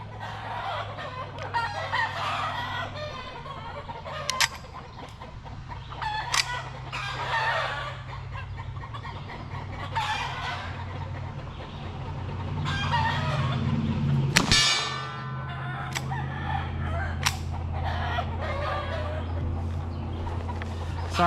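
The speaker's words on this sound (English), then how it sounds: "Something has angered the chickens." Agitated chickens cluck and a rooster crows repeatedly outdoors, fairly close and loud, with a steady low background hum throughout.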